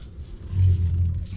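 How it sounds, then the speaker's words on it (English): A car overtakes on a road, heard as a low engine rumble swelling and then easing away in about a second, close by and steady under cabin noise. "This vehicle is just overtaking us at the moment."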